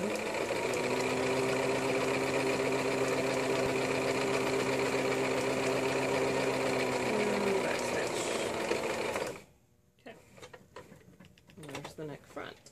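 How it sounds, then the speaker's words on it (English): A sewing machine stitching a buttercream romper runs with a steady, close whirring hum for about nine seconds, then stops abruptly, leaving soft handling noises and rustling. "Just make sure you don't sew over something you're not supposed"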